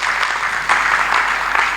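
An audience at a Hindi comic poetry gathering breaks into applause, a short burst of many hands clapping together that swells slightly partway through and carries on steadily with no speech.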